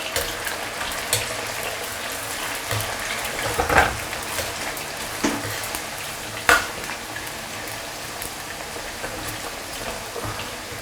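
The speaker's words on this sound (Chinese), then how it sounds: "4成油温，我们下入土豆条， 给它过油" Potato strips deep-fry in moderately hot oil, giving a steady, close crackling sizzle with occasional sharper pops, alone and without talk.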